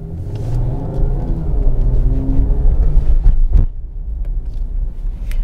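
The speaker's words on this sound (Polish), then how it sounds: "teraz jedziemy na funkcji komfort, a i tak słychać silnik bardzo dobrze" A Mercedes-Benz AMG GT 43 4MATIC+ engine in comfort mode hums and rumbles steadily from inside the cabin, low and throaty, with a brief swell midway before settling back to a smooth drone.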